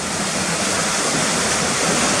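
Whitewater rapids gush over a drop of about fifteen feet at Cotter Force waterfall, a steady, loud rushing roar heard close up for a brief moment without any talking.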